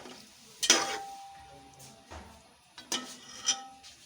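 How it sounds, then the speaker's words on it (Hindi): Mutton pieces frying in hot oil, a soft sizzle with stirring scrapes and a few utensil clinks against the pan, close and fairly quiet, no voices. "अब हम ऑयल में मटन डालेंगे और इसको भून लेंगे।"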